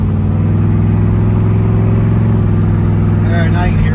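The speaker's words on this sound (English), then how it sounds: "There, now you can hear a shift. 3-speed automatic." A 1966 Ford Mustang with a three-speed automatic pulls through a gear change, its engine droning loud and steady from inside the cabin before the note drops as the shift comes through, with a voice talking over it.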